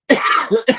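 A person coughs sharply up close, a quick two-part cough with a rough throaty edge, heard alone.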